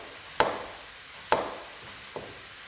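A kitchen knife slices through fresh cucumbers on a cutting board, giving two crisp, sharp chops about a second apart and then a fainter third, each close and clear with no talk over them.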